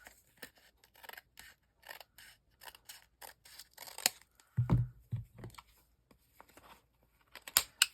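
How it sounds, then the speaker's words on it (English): Scissors snip through paper while a craft page is being trimmed, giving a string of short close cuts and rustles with a louder crunching handling sound partway through. "So let's just trim this off a little bit."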